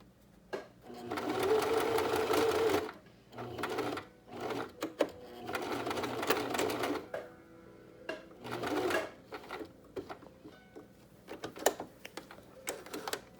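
Domestic sewing machine stitching a fabric face mask seam in bursts of rapid whirring, several runs separated by pauses with faint clicks and handling noises.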